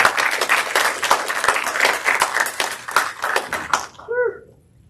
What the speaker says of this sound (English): please give our candidates for External Vice President a warm round of applause as they enter the stage